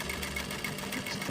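Sewing machine stitching a satin bonnet closed, a quiet rapid mechanical whirring and ticking of the needle running steadily for a brief moment, close and alone.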